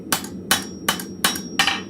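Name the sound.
blacksmith hammering to straighten forged pieces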